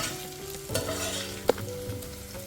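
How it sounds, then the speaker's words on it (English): Onions, garlic and ginger fry in a pan on medium heat for a dal tadka, giving a steady soft sizzle with a stirring scrape and one brief sharp clink, with no voices. "I'm cooking on medium heat so that my onions and garlic and ginger is golden."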